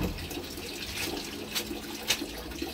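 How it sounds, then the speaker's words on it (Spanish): Water splashes and sloshes continuously as suit trousers are rinsed by hand at home, with a couple of sharper slapping pats standing out. "Vamos a enjuagar primero lo que es el pantalón."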